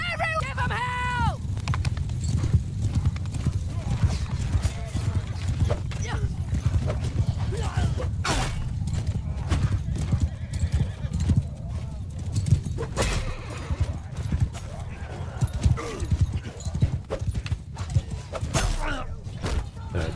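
Horses gallop across a battlefield in the game Bannerlord, a continuous loud rumble of hoofbeats with scattered clashes and a neigh early on, under steady talk.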